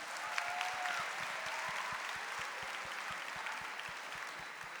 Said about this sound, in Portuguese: Vamos dar uma grande salva de palmas para Jesus.